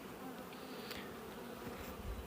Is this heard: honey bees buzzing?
yes